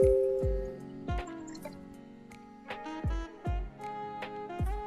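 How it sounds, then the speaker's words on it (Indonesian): Water is poured into a small flood warning model, heard as intermittent plopping drips and splashes with a few electronic tones and clicks from the device between them. "Dan ini kalau saya tambahkan airnya lagi"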